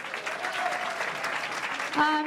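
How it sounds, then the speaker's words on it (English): Audience applause at a temple Diwali program, a continuous spread of clapping at moderate level, with a voice breaking in near the end. "give Sarika a big round of applause"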